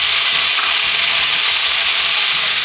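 Finely chopped tomatoes hit onions frying in a pan, setting off a loud, dense, continuous sizzle that hisses close up without a break and with no one talking.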